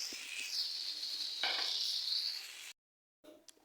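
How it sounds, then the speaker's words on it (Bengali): Eggplant slices fry in hot oil in a pan, giving a steady, close, bright hiss that swells briefly, then cuts off into silence before a short clatter of a utensil. Nobody talks. "এই তো এখানে বেগুন ভাজা হয়ে গেছে"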